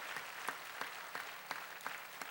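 A church congregation at a Wednesday worship service in Incheon claps together in a steady, evenly spaced rhythm, the hand claps sounding faint and distant with no talking over them.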